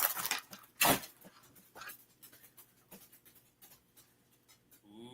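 A dog whimpers and pants after being stepped on, with a sharp loud yelp near the start followed by softer, intermittent whines and breathy panting close by.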